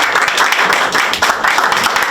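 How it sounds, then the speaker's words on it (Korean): An audience at a youth policy candidate debate in Sejong breaks into dense, continuous applause, many hands clapping loudly together throughout. "큰 박수 부탁드립니다"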